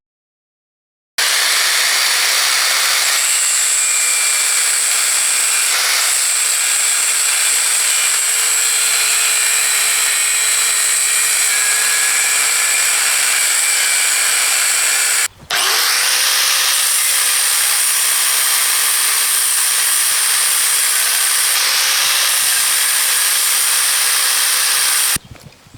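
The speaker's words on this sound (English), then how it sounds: "I got to use the grinder for that" Angle grinder cutting away the transmission tower of a Ford Model A, a loud continuous high-pitched whine and grinding hiss that breaks off briefly midway and then resumes steadily until the end.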